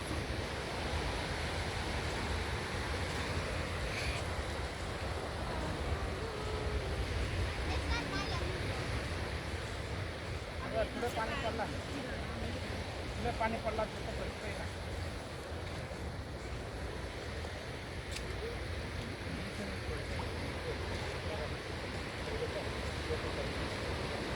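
Sea waves wash steadily at Ha Pak Nai Beach in Yuen Long as the tide rises, a continuous broad rush mixed with gusty wind buffeting the microphone, while voices talk nearby.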